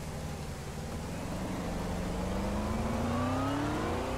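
A DayZ game car engine drones steadily and climbs in pitch as it revs up, a continuous mechanical whine with no voices.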